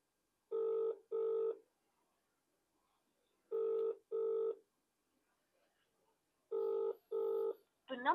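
Ringback of an outgoing phone call, a repeating double electronic tone with long silent gaps between pairs, heard three times, clean and close, with a brief voice starting at the end.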